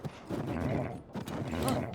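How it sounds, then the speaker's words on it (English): A horse whinnying in a Zelda game, with faint hoofbeats beneath, heard in two soft bursts. "you can just ride a horse"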